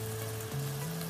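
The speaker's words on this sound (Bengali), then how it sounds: "এই মশলার মধ্যে এখন আমরা শিমের বিচিটা ভালোভাবে কষে নেব" Broad bean seeds fry in a spice mix in a pan, giving a close, steady sizzle with a faint low hum underneath.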